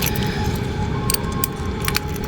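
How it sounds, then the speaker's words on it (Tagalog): Keys jingle and clink in bright metallic bursts as a store padlock is unlocked, close and continuous over a steady background hum, with no talking. "Ito po yung ating mahiwagang susi."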